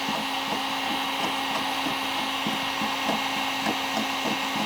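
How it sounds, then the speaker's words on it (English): Heat gun blowing hot air steadily to soften stick-on pinstriping on a car's painted body, a loud continuous broadband whoosh with a faint hum and light tapping or clicking throughout, no talking. "Keep the heat gun moving. Do not leave it in one spot or you'll overheat the paint."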